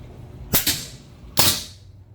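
Three sharp, close air-rifle shots from an FX Impact M3 firing 38.4-grain hollow point slugs at 25 yards, two in quick succession and a third about a second later, each a crisp crack with a short tail.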